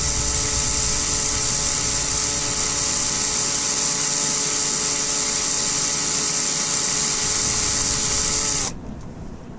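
A drill bores into the solid fiberglass deck of a Cabo Rico sailboat, giving a steady high whine that runs without a break and then cuts off abruptly near the end.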